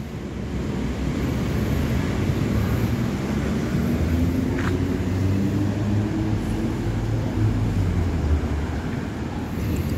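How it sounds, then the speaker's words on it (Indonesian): Sumber Alam's Hong Kong-built electric intercity bus gives a steady, continuous low rumble of road and cabin noise with a faint wind-like hiss throughout, and no talking. "Bus listrik ini benar-benar asli buatan dari Hong Kong atau CBU ya."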